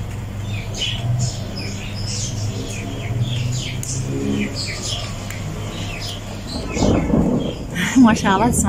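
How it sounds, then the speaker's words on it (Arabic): A deep, steady rumble of thunder rolls on throughout, with birds chirping and tweeting over it and a louder swell near the end. "ما شاء الله تسمعون صوت الرعد"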